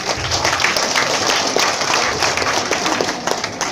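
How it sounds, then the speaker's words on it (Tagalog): Steady applause from a crowd at a Sultanate Kingdom Organization community event, a dense, even wash of clapping that holds for a few seconds without a break. "palakpak"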